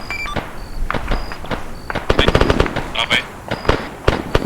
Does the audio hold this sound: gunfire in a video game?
yes